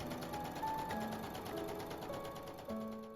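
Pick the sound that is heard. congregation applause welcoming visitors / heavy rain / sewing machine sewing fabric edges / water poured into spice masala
sewing machine sewing fabric edges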